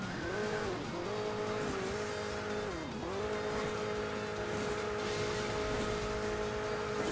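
Car engine in the mobile racing game Hill Climb Racing 2 drones steadily at high revs throughout, dipping briefly around the third second before climbing again, loud and continuous with no talk over it.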